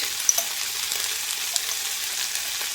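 Tomato paste, cumin, black pepper and taco spice fry in a pan for karnıyarık, making a steady close sizzle with faint crackles throughout.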